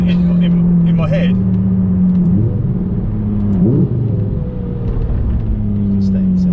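A Lamborghini Murcielago LP670-4 SV's engine holds a loud, steady drone with a couple of quick rev swells, heard close from inside the car.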